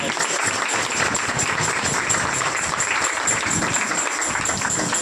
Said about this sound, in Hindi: अभी वधू की तो सब लोग तालियां बजाएंगे।